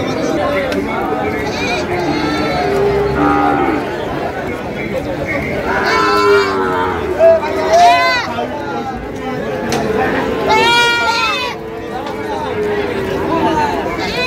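Sahiwal bulls at a busy cattle market in Cumilla give several calls, standing out over nearby crowd chatter and bargaining voices that continue throughout.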